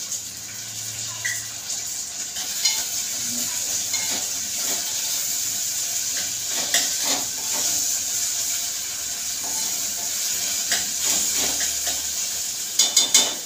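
Chopped onion and tomato softening in oil in a cooking pot give a steady, moderately quiet hiss of frying, broken by a few faint stirring clicks and taps.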